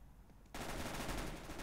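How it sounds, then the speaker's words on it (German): Gunfire in the video game Counter-Strike starts abruptly after a short quiet moment. A dense, rapid burst of automatic shots then continues without a break, loud and crowded. "Ich weiß nicht, wo der Schuss herkam."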